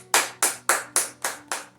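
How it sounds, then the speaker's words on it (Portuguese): A church congregation claps hands in praise after a prayer, producing six loud, sharp, evenly spaced claps in a steady rhythm, each with a short room decay. "Palmas para o Senhor."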